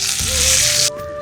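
Curry leaves hit hot oil with a loud, bright sizzle and crackle that runs for about a second before cutting off abruptly to a quieter hiss, with no voices.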